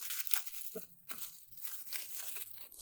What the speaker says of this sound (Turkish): Şimdi paketi hemen bir açalım.